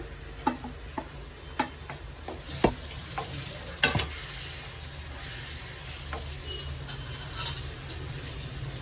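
Chopped lemon sautéing in a pan for lemon pickle, a soft steady sizzle with scattered sharp ladle taps and scrapes, quieter and sparser toward the end.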